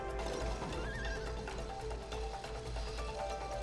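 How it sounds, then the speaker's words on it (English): A horse neighs and whinnies in the video game It Takes Two, with clip-clop hoofbeats and game music, loud and close with no talking. "A horse."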